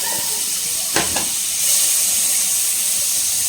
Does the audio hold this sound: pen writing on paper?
no